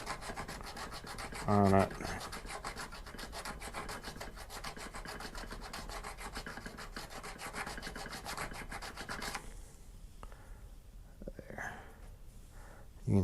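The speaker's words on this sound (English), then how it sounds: "Get a little bit rougher" A hand file rasps against a handmade ring in a steady run of quick, rough strokes, close up, then stops, with a brief soft voice near the start.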